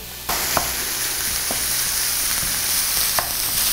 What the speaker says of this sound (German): Hack geht in die Pfanne.